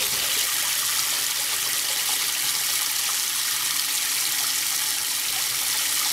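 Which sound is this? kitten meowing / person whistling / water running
water running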